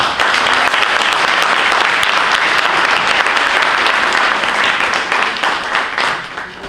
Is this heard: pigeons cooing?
no